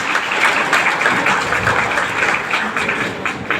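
An audience at a lifestyle-marketing talk claps together, a dense, even burst of applause that stays loud throughout.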